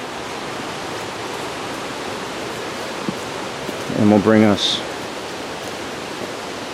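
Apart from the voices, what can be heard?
river flowing beside the trail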